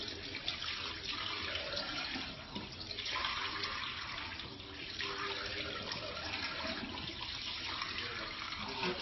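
Tap water runs steadily into a sink during rinsing in a skincare routine, a continuous soft gushing splash heard fairly quietly with a faint voice in the background.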